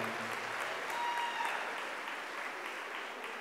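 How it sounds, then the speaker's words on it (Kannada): Audience applause at a Kannada festival event in Singapore, a dense, steady patter of many hands clapping, somewhat distant and moderately quiet, holding evenly for the whole stretch. "ಒಂದು ಜೋರು ಚಪ್ಪಾಳೆಯೊಂದಿಗೆ ವೇದಿಕೆ ಬರಮಾಡ್ಕೊಳ್ಳೋಣ"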